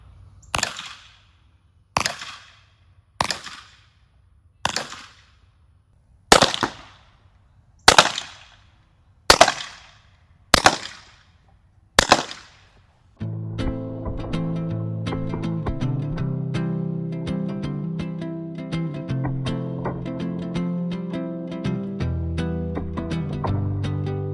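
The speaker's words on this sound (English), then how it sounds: "let's now shoot 3 of these 1/4-inch Baltic birch plywood board" A Grimburg Carry self-defense airgun fires nine sharp, evenly spaced cracks into quarter-inch Baltic birch plywood boards, each shot ringing out briefly, before a dense clattering, rattling passage takes over.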